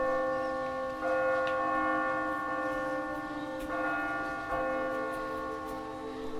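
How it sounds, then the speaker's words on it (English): Several bells ring with sustained, overlapping tones, new strikes sounding every few seconds as the resonant hum lingers between them. "summoned to the hall by the ringing of many bells"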